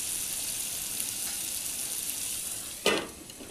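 Spices with turmeric fry in a pan with a steady, close hiss of sizzling oil, broken near the end by one brief scrape of stirring before the sizzle settles again.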